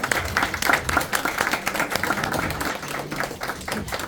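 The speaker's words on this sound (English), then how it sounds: "let's give them all a round of applause." Audience applause greeting team leaders and directors called to the front at a live presentation, steady dense clapping throughout at moderate loudness with a faint voice underneath.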